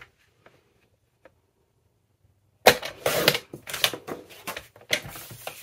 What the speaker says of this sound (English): I am going to cut a piece of cardstock to make my page flap